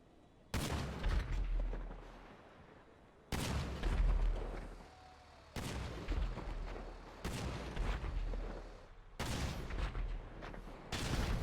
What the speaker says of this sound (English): The APC's cannon turret has a slightly different firing sound when operated by a player